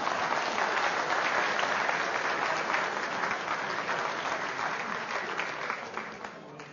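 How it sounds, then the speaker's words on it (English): Audience applause for stage volunteers at a mathemagic show, a dense, sustained wash of clapping from a large crowd that holds steady and slowly tapers toward the end. "let's give these volunteers a nice round of applause"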